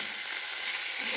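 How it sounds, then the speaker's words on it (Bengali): Chopped carrots and beans with onion sizzle in a hot pan, a steady bright hiss with no voices over it. "এখানে দিয়ে দেবো কুচনো সবজিগুলো।"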